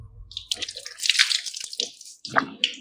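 Water drips and splashes in short irregular bursts during wudu ablution as the ears and face are washed, with close, wet patters and a few louder splashes.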